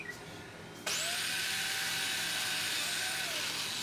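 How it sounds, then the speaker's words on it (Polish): A power drill bores holes in wood while a dog bowl stand is being built, starting abruptly after a quiet lead-in and then whining steadily, loud and close, with small pitch shifts as the bit works through. "I znowu wiercimy."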